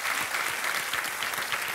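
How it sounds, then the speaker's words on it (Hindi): Steady, dense clapping from a TV quiz show studio audience, continuous and fairly loud throughout with no voices on top. "एक बार तालियां बज जाए"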